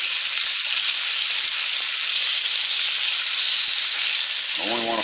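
Venison tenderloin steaks sear in a hot pan, giving a loud, steady, close sizzle throughout, with a voice starting briefly at the very end.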